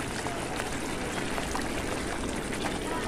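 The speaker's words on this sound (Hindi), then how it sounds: "पनीर डालने के बाद डाल देंगे पानी," Water is poured into a pan of shahi paneer curry, producing a steady, continuous rushing splash that stays even throughout, with no talking.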